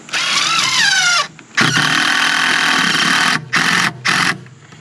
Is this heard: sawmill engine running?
yes